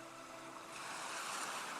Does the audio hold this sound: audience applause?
no